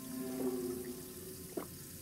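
Water runs briefly from a tap in the Fears To Fathom 2 horror game, a short soft gush followed by a small splash, faint against a low background drone.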